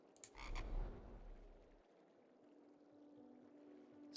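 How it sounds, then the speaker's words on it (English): Low, croaking frog call from the Roots Devour video game, a deep rumbling croak in the first two seconds followed by a quieter ambient hum and a faint click at the end. "Spooky frog."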